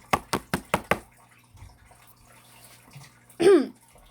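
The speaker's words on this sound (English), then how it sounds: "There was a knock." Knocking on a door: five quick, even raps close by, then quiet room noise and a brief water-like swish.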